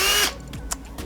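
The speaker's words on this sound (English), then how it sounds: "Got an oscillator for cutting open my drywall." An oscillating multi-tool cutting into drywall gives a short, loud, buzzing burst that stops abruptly, followed by quieter handling noises.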